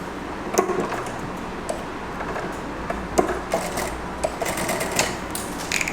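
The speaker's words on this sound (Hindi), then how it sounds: "अब हमें क्या करना है, जो हमारा नेक था उस पर सिलाई लगा देनी है प्रॉपर" A sewing machine runs steadily while stitching along a dress neckline, a continuous whirring hum with repeated light ticking clicks, close and alone without speech.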